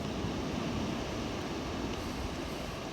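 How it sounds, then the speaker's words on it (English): Strong wind gust in a high-wind thunderstorm, a steady, loud broadband roar that buffets the microphone for the whole stretch, with no voices. "Let's see what this last gust does."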